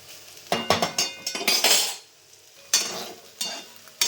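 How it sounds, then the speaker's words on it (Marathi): Soybean chunks fry in a small amount of oil until brown, heard as bursts of spoon scraping and clinking against the pan over a faint sizzle, with brief quiet gaps between the close, loud stirring strokes. "सोयाबीन मी आता फ्राय करून घेते बघा ब्राऊन होईपर्यंत त्यांना फ्राय करायचे"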